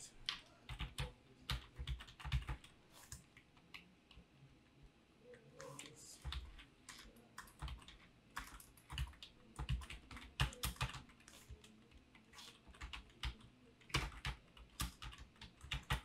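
Rapid, irregular clatter of fingers typing on a computer keyboard while entering Bengali text in MS Word, with steady bursts of close key clicks throughout and no voices.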